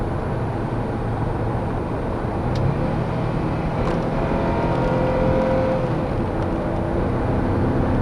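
A 2013 Ford Taurus EcoBoost engine hums and gradually rises in pitch as it accelerates, heard from inside with steady road noise and a brief click or two.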